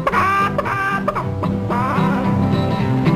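A man imitates a clucking hen with his voice, giving short rhythmic clucks over lively barn dance music from a 1953 show.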